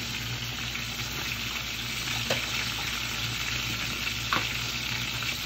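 Upo gourd and sardines sauté in a pan, giving a continuous close sizzle with soft stirring scrapes and a couple of brief clicks from a utensil, without any talking.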